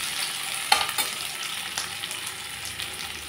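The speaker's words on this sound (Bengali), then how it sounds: "এগুলোকে আমি 2 মিনিটের মতো ভেজে নিই।" Boiled potatoes fry in a pan for Bengali aloo posto, giving a steady close sizzle with a few light clinks and scrapes of stirring near the start, and no voices.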